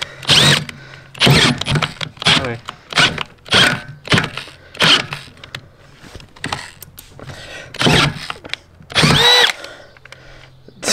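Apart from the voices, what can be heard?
18-volt cordless drill running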